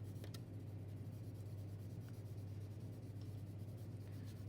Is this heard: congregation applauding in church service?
no